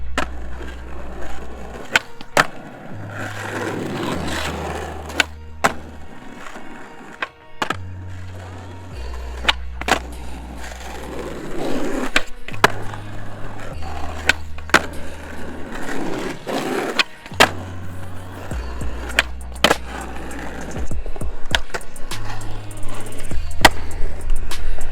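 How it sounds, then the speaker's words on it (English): Skateboard warm-up on a ledge and flat ground, with repeated wheel rolls, pops, board slaps and grinding scrapes recurring irregularly throughout, fairly close, over a low steady background hum. "I'm gonna go get some warm-ups on the ledge and on the flat ground and just try and get some tricks in"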